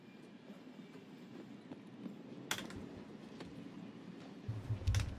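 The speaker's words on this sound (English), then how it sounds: "Is the train leaving?" A train rolls through a video game scene with a steady low rumble and rattling, a couple of sharp clanks standing out, and the heavy rumble swelling near the end; no one speaks.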